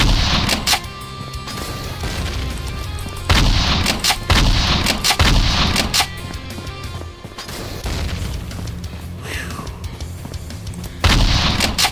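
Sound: shotgun firing in video game

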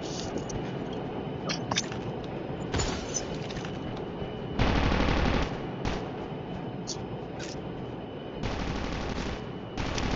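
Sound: machine gun fire in Call of Duty Mobile video game

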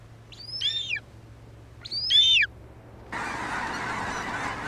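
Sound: bird of prey call

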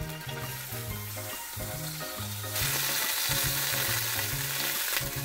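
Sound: meat frying in an oiled tamagoyaki pan

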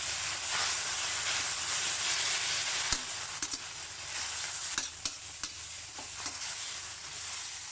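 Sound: stir-frying crispy pork in stir-fry sauce

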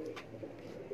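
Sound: pigeons cooing on a rooftop

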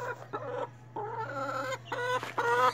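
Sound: four-week-old chick clucking

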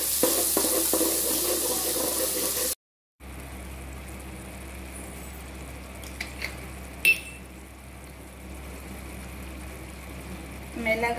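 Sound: finely chopped tomato frying and being stirred

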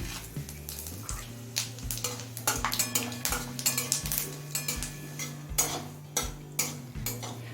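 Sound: dried red chillies and panch phoron frying in hot oil

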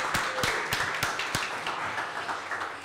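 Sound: audience applause

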